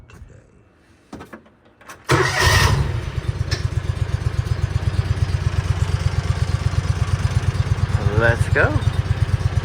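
A motorcycle engine starts after a short quiet stretch and then idles with a steady, loud, rapid putter close by, while a person speaks briefly over it.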